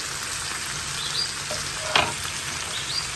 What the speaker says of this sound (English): we're going to saute this all together for probably about 15 minutes or so, stirring intermittently